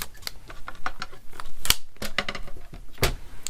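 Scored paper being folded and creased by hand, sharp crisp crackles and taps scattered irregularly across a few seconds, close and fairly loud.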